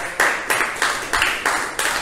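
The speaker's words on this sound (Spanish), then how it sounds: "vamos a darnos un aplauso" Bursts of applause at a year-end party, several short rounds of hand clapping in quick succession, fairly loud and close, each swell starting sharply and fading, with no talking over it.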